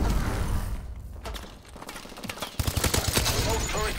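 Rapid gunfire bursts from a weapon in the Call of Duty: Advanced Warfare video game, with a dense fusillade and a louder rhythmic string of shots near the end.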